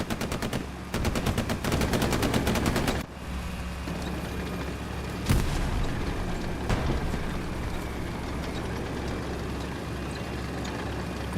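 Self-propelled artillery shells land in a D-Day World War II video game, under rapid machine-gun bursts early on. Then come a few sharp, heavy impacts over a constant low rumble of battle, with no talking.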